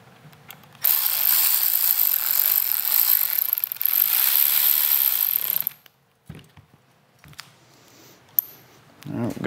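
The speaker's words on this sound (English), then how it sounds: "Get our T25 bolt. Just snug it up." A ratchet snugs a T25 bolt on a 2008-2013 Harley-Davidson Street Glide handlebar, giving a loud, close, continuous clicking rasp for several seconds, then quieter handling noises and a few soft knocks.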